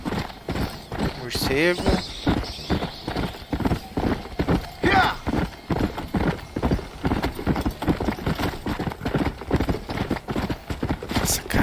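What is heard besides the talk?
horse galloping in a video game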